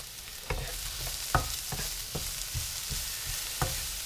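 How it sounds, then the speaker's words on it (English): Chopped onions and chili sizzle steadily in a hot pan, a constant close frying hiss punctuated by occasional sharp stirring clicks from a utensil. "And I'm going to cook these together."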